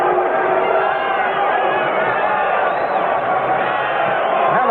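A packed ice hockey arena crowd roars steadily throughout a 1979 Challenge Cup game in New York between the NHL All-Stars and the Soviet national team, a loud, continuous din of cheering voices.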